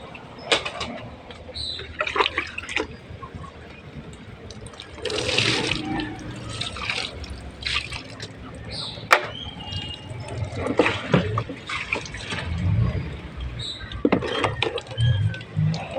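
A household tap runs water into a container, heard as irregular bursts of splashing and gushing that start and stop, with quieter gaps and some rattling between the pours.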